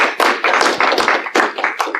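An audience at a public talk about school sex-education programs breaks into brief clapping, with loud, dense, irregular claps close by.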